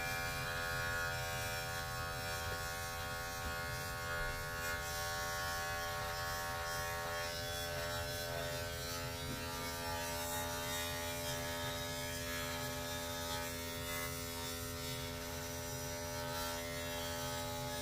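Electric beard clippers trim a beard close up, giving a continuous, even motor buzz with a steady hum that barely varies across the whole stretch.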